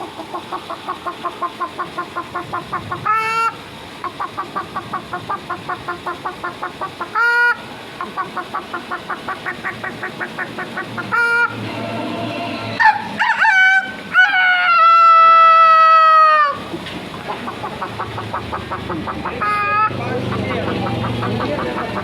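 A voice imitates a rooster crowing, several drawn-out calls among rhythmic clucking sounds, with a dog-like howl and background noise.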